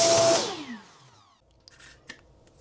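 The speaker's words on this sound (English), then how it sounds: "So I'm going to vacuum that off" A vacuum cleaner working on a dirty Shark Matrix UR23 filter roars loudly, then winds down within about a second, leaving near silence broken by a couple of faint knocks.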